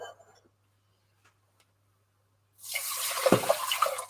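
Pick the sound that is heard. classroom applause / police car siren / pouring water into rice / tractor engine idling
pouring water into rice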